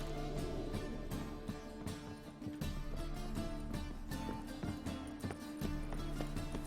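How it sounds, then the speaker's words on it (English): Horse hooves galloping in The Witcher 3, a steady run of quick thumping clip-clops heard close up over a continuous game soundtrack, with no talking. "Whoa there, Roach"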